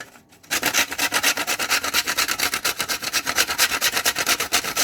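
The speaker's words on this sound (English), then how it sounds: "Now I'm just going to be grating the nutmeg into this place." Whole nutmeg scraped on a grater for a meat pie filling: a fast, steady, close rasping stroke repeated evenly after a brief quiet start, loud and alone.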